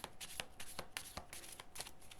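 Tarot cards handled and laid onto a computer keyboard, with a quick run of crisp papery shuffling and flicking snaps, close and fairly loud.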